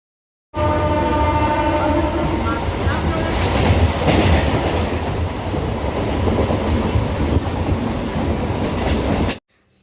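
Passenger train running, a loud, steady rumble of wheels on track with a sustained horn-like tone early on, continuous for about nine seconds before stopping abruptly.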